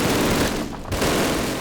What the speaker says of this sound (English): Germans actually wanted their machine guns to sound like that just for the intimidation factor